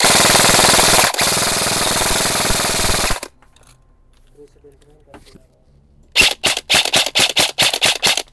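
A Delta D057 CQB airsoft rifle with an extra high-FPS spring fires full auto, a loud continuous burst for about three seconds, then after a quiet pause a series of short rapid bursts close by.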